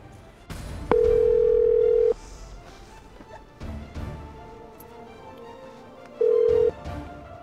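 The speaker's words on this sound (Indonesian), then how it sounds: "Kok di-reject ya telepon aku?" A telephone call tone sounds as the call is rejected: a steady, loud tone holds for about a second, then a short second tone follows, separated by soft clicks and faint background noise.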